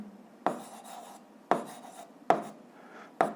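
A pen writing on paper during a physics problem, its strokes coming in four separate bursts, each opening with a crisp scratch that fades into a soft, close rubbing.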